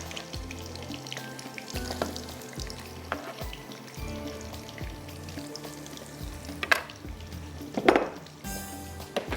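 Sliced onion hits hot oil for a mutton dhuwan masala, giving a continuous close sizzle with stirring scrapes and a couple of louder clinks of utensils near the end.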